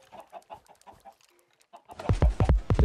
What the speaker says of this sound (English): look at all these loose chickens